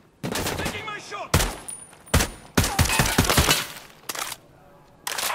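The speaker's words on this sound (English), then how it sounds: "Taking my shot." Gunfire in the video game Ghost Recon Breakpoint comes as several loud, sharp bursts and single shots separated by brief pauses, close and dominant.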